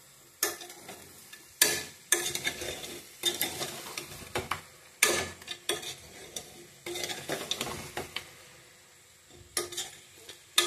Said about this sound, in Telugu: ఇదిగోటండి ఏగుతుంది. కాసేపు కొంచెం కలపాలి.